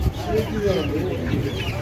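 Chickens and ducks cluck at a village poultry market, a few short calls near the microphone under voices and general market hubbub.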